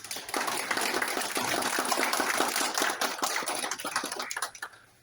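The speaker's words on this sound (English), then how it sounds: "let's give a round of applause to our outgoing." An audience at an annual general meeting gives a round of applause: a burst of many hands clapping that rises quickly, holds for a few seconds, then thins out into scattered claps before stopping.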